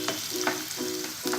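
Ginger, garlic, onion and green chili sizzle steadily in hot oil for a baby potato masala, with quick stirring scrapes through the brief, close frying hiss.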